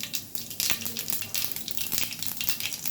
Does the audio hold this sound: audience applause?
no